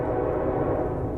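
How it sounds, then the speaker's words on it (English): A low, sustained rumbling drone fills a tunnel, suggesting a train horn or approaching train where tracks were long ago ripped up, steady and loud without breaks or talk. "A train horn comes from behind even though the tracks have been ripped up long ago."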